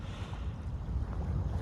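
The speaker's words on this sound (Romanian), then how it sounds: "un vânt năpraznic pe lângă frigul care a fost de dimineață și încă este" Strong wind blowing by the water on a cold morning at a fishing spot, a steady low rumbling gust noise with microphone buffeting, continuous and loud throughout with no talk.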